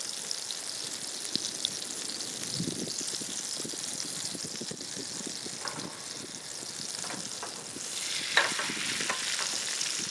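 Meat frying on a camp stove on a mountainside, sizzling in a steady, dense crackle with occasional stirring scrapes and pops, close and continuous throughout.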